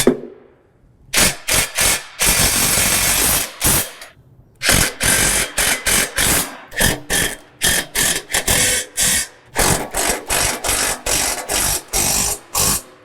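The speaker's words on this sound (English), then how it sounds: "grab our 13mm wrench and 13mm socket with our impact driver or ratchet and go ahead and tighten" An impact driver or ratchet tightening 13mm bolts on a John Deere Z735M zero-turn mower during a toolbox kit install, heard as loud, close bursts of rapid mechanical rattling separated by short pauses.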